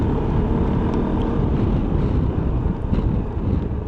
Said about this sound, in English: But the wind buffeting and the sound is significantly less with this little windshield in the higher position